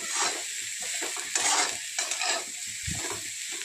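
Bitter gourd pieces sautéing in a little oil in a pan, a continuous close sizzle with stirring swishes and a soft low clunk of the utensil near the end, no talking.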